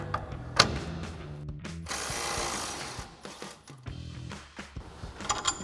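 A wrench works on the bottom strut mounting bolt nut of a Ram 1500, giving a few sharp metallic clicks and clanks amid quieter mechanical handling noises, close and intermittent.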